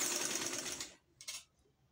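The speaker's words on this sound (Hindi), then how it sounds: "साथ साथ हमने इसको फोल्ड करते जाना है, और साथ जो है वो हम इसकी सिलाई लगाते जाएंगे।" A sewing machine stitches fabric along piping for a ring sleeve, a close, steady whirring run that stops after about a second, followed by two short faint clicks.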